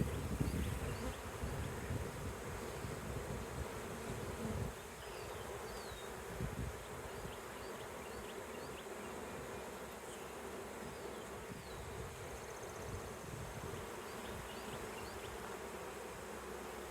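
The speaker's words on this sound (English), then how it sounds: "scooping up bees with your bare hands" A dense, steady buzzing of a swarm of honey bees fills the air, continuous and close, with a few louder bumps near the start.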